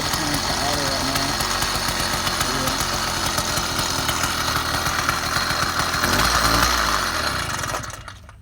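A Roadmaster Granite Peak motorized bicycle engine idles steadily and close by, its running uneven from a carburetor needing adjustment, with a brief rise near the end before it cuts off.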